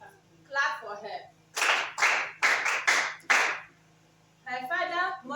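A group claps in unison for a student at a school staff seminar: about five sharp, loud claps in a quick, uneven rhythm, with a voice talking before and after.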